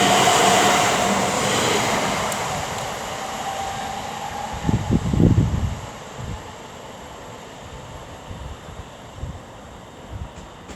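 A West Midlands Railway Class 730 electric train passes through Erdington station with a steady rushing hiss and rail noise, plus a brief cluster of louder wheel clatter midway before it fades.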